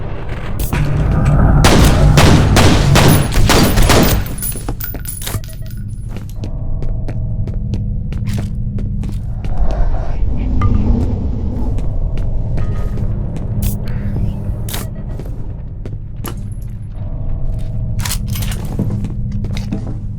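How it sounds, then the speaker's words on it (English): A reactor explodes in the shooter game F.E.A.R. with a burst of heavy rumbling booms at the start, settling into a sustained throbbing hum broken by scattered deep impacts. "I feel like the reactor should be exploding more still."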